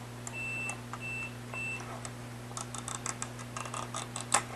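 A multimeter in continuity test mode gives three short, evenly spaced high beeps, followed by soft clicking and tapping over a steady electrical hum.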